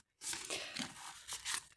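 Paper crinkles and tears close up as a paper surprise packet is opened, a short burst of crisp rustling and ripping, loud and brief with no voices.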